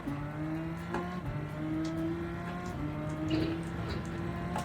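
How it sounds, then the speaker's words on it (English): Engine of a Subaru WRX STi fitted with a Porsche 911 engine accelerating in Gran Turismo 7, rising revs stepping through several gear changes, loud and steady with no talk over it. "Let's see what we're expecting from this 911 engine."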